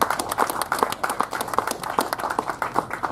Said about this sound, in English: I'd like a round of applause for Alderman Joe Moreno.